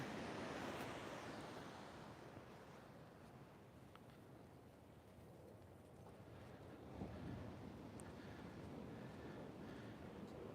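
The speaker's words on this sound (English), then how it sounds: "tune into sound of those waves rolling in." Ocean waves rolling onto the shore at an oceanfront yoga setting, a soft continuous wash of surf with gentle swells and some wind buffeting, fairly faint and with no talk.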